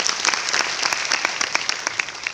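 Audience at a Mumbai event applauds Dr. Ajay Sharma, a steady wash of dense clapping filling the hall, fairly loud and continuous, with individual claps popping out here and there.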